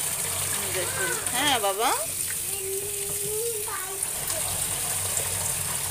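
Water runs steadily while items are rinsed clean of sand in a home kitchen, a continuous splashing wash under a voice talking throughout.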